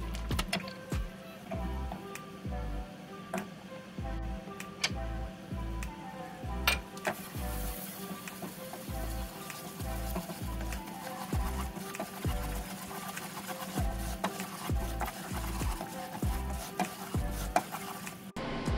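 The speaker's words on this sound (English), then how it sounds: "stirring constantly for a minute to like let that cook" Butter and flour roux stirred constantly in a pan, with a quiet sizzle under rhythmic, evenly spaced low scraping strokes of the spoon repeating about twice a second, close and without talk.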